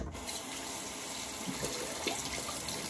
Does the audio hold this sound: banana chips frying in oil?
no